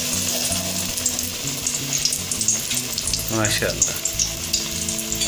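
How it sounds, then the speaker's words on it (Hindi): Bread pakora pieces coated in gram flour batter sizzle and crackle steadily in hot oil, a dense continuous fry with occasional stirring clinks and a brief spoken word over it. "अब हम इसे फ्राई करने लगे"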